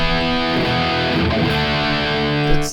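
Loud, distorted electric guitar chords ring out through a Marshall DSL 20HR amp head into a Two Notes Captor X with no pedals, sustained and dense with no talking.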